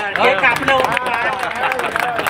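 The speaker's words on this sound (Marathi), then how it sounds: "टाळ्या वाजवायला" Crowd clapping at a women's day celebration held by a Kurla women newspaper vendors' association, steady dense applause mixed with voices and chatter throughout.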